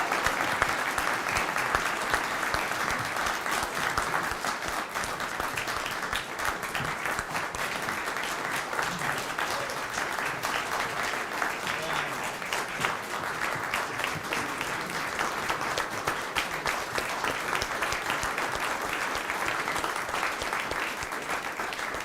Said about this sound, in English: let's give our second lieutenants one final round of applause